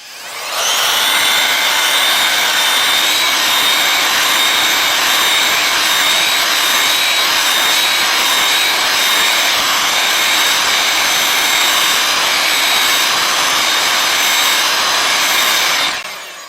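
A heat gun blows on a Samsung Galaxy A36 phone screen, a loud, steady whooshing roar that starts abruptly, holds evenly close by for about fifteen seconds, then cuts off, with no talking.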